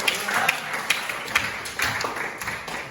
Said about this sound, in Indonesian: yuk tepuk tangan